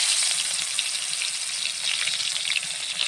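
Snakehead (shol) fish frying in hot oil, a dense, even, loud crackling sizzle holding steady from start to finish with no voices.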